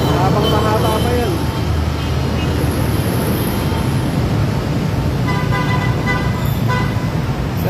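Motorcade cars crawl along EDSA near the Guadalupe MRT station in a steady, dense roar of traffic. Repeated horn toots and honks ring out loud and close throughout.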